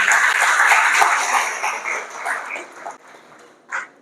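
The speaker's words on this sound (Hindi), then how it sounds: "आप लोगों के लिए एक बार फिर से जोरदार तालियां बजा दीजिए।" Applause for a branch team at an LIC insurance training event: steady, dense clapping from a room of people that thins and tapers off, with a final short burst near the end.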